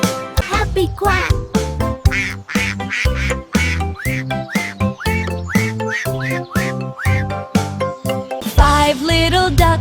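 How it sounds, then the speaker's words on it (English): Cartoonish duck quacks in a children's nursery-rhyme song, a rapid run of bright, bouncy quacking notes over light jingling accompaniment, close and lively. "Happy quack!"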